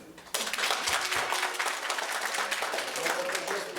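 Warm, steady applause from wedding guests at a banquet table, starting abruptly and continuing as a dense patter of clapping hands for several seconds.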